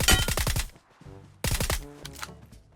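Video game gunfire: two loud bursts of rapid automatic shots, close and sharp, separated by a short lull with faint game sounds in between.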